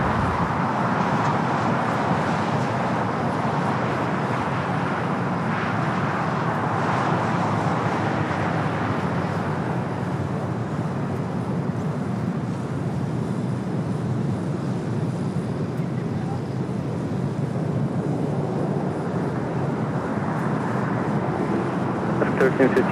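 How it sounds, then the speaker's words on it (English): A Boeing 787 Dreamliner rolls down runway 25 right at LAX, a broad, distant engine rumble that swells and fades under faint background voices and radio chatter. "We'll go from that Dreamliner to this Dreamliner, now rolling down the 25 right."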